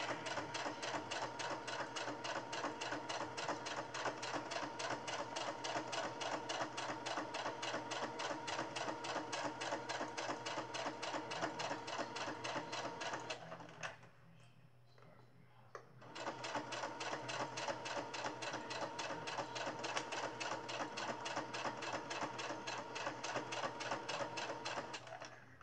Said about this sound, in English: Now I'm just stitching all the top done.